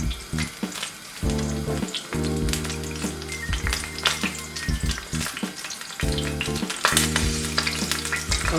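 Pork fillets with garlic cloves browning in a pan for a Calvados pork dish give off a steady, loud sizzle with scattered clinks and scrapes, over a low, even tonal hum.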